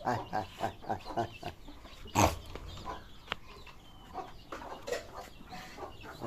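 A well-grown rooster and hens on a small farm cluck in short repeated bursts, close and fairly quiet, with one sharper call in the middle and soft rustling between.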